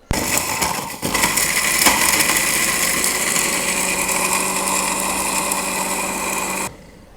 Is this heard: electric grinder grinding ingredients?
yes